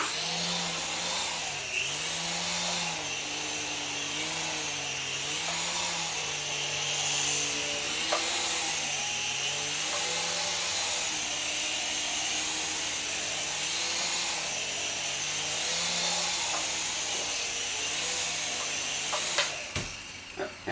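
A small RC helicopter takes off and flies around indoors over a bed and a laundry hamper, its rotor and motor whining steadily with a wavering pitch throughout.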